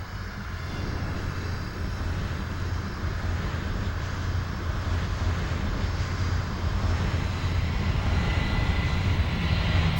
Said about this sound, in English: Fly runway heading, runway 27 left, clear for takeoff, wind 150 at 7.